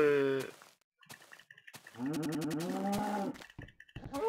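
Cows in the video game Minecraft moo several times, loud and close, each low, drawn-out call separated by short pauses and a few clicks.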